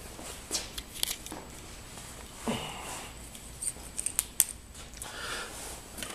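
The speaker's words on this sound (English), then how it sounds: "So here we go with the solenoid." A four-way pneumatic solenoid valve on an electric chair clicks and hisses in several short, sharp bursts with quiet gaps between, close by and alone.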